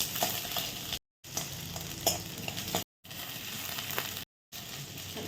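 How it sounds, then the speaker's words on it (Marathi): Onion and ginger sautéing in a pan for paneer chilli, a steady close sizzle with stirring scrapes, broken by short silent gaps, no voices. "आलं घेतलाय कांदा टाकून छान परतून घ्यायचा"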